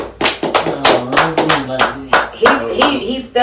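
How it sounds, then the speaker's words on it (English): Studio audience on a talk show clapping in uneven bursts, with loud separate hand claps rising and falling while people talk over them. "Let's clap it up for Prophet, man."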